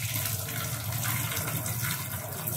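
Water runs steadily from a household tap while an apple is washed under it, a continuous close splashing flow with no talk.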